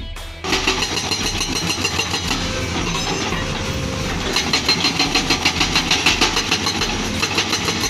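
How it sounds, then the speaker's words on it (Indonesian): A vibratory roller compacting soil at a toll road construction site rumbles with a heavy diesel engine, then settles into a steady, loud drone with rhythmic vibrating pulses. "Vibratory roller memiliki fungsi utama untuk memadatkan tanah di area konstruksi"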